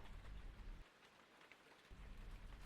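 Steady rain falls on a rainy night, a soft dense patter of drops with a faint low rumble, quiet and continuous with no voices.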